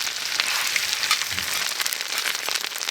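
Minced meat with ginger and garlic frying in hot oil, a dense continuous sizzle and crackle with small pops, close and steady, no talking.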